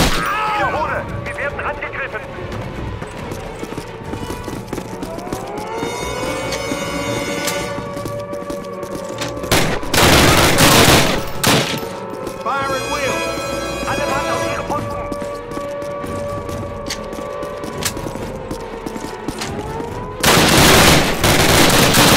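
Heavy squad gunfire fills a Call of Duty battle set in Strasshof, Austria in 1944, with dense rattling bursts and louder blasts mixed with engine drone and shouting voices throughout.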